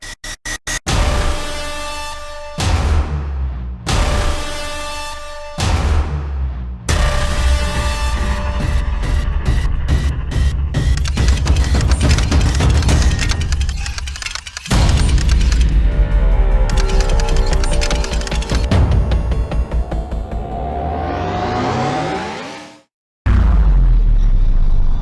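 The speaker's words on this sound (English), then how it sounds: "Fire slime cannon." A slime cannon in the Minecraft video game firing at a ship, loud booming bursts and crackling explosive noise, with repeated heavy blasts that cut in and out and a short silent gap before a final burst.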